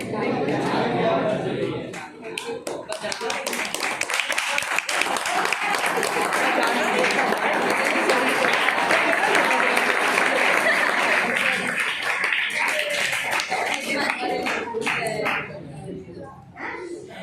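A seminar audience on positive thinking and stress management breaks into sustained clapping that swells and holds for about fifteen seconds, dense and close, with a few voices mixed in before it tapers off.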